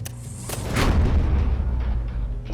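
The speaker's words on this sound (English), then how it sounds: "we got a gunshot close by" Gunfire in the video game RoboCop: Rogue City: a sharp shot near the start, then a heavier booming blast that rolls into a sustained low rumble, close and loud.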